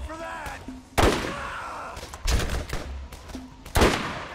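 Gunfire in the video game Borderlands: several sharp, loud shots in a broken rhythm, each a hard crack with a quick decay, with brief game voice sounds between them.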